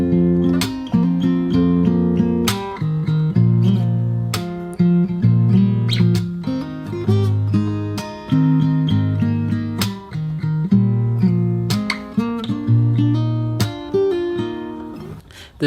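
Solo fingerstyle acoustic guitar works through the refrain, plucked chords over a moving bass line in a steady rhythm, close-miked and alone without talking.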